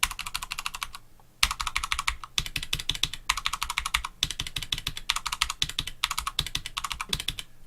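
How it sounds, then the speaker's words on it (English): Typing on a keyboard with Cherry MX Brown PCB switches and double-shot keycaps versus Roccat Titan switches, with close, rapid clattering keystroke bursts separated by brief pauses. "this is Cherry MX Brown, the PCB double shot versus the Roccat Titan switches."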